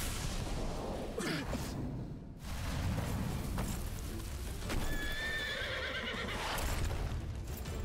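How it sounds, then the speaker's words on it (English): A horse neighs and whinnies amid clip-clopping hooves in the video game Stranger of Paradise: Final Fantasy Origin, loud and close over a steady game soundscape. "Horse."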